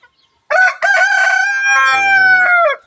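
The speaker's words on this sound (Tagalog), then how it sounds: "Nandito sila yung ibang mga manok ko." A rooster crows once, loud and close, among a rooftop flock of chickens: a long, drawn-out call with a rising start and a wavering, fading end. No clucking stands out.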